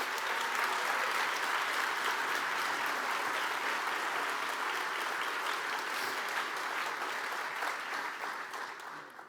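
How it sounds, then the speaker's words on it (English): An audience at a talk on antiracism applauds at length, a thick, even roar of clapping from a large hall that holds steady and then tapers off toward the end. "Can we give them another hand of applause?"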